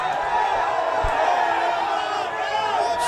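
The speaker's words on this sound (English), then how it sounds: "that's the correct call, although the crowd don't seem to like it" A large crowd at a schools rugby league match between St. Joseph's College and Kingswood College lets out a sustained, loud collective groan and jeer of disapproval at a referee's decision.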